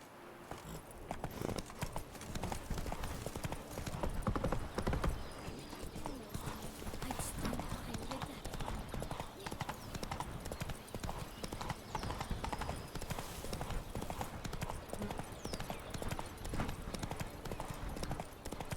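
Roach, Geralt's horse in The Witcher 3: Blood and Wine, clip-clops steadily at a gallop across the whole stretch with a constant rapid hoof rhythm and some faint background ambience.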